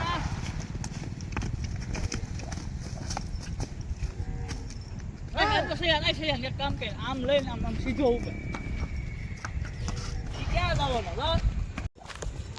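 A horse's hooves clip-clop on a road, irregular and moderately close, while people keep talking over the steps throughout.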